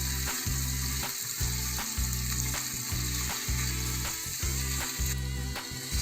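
Tuna sandwich filling fries in a pan with a continuous close sizzle, broken by regular pulsing scrapes from stirring, and no talk.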